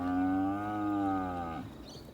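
A single long, drawn-out moo from a calf being weaned, fairly close, holding steady before trailing off into quiet outdoor ambience.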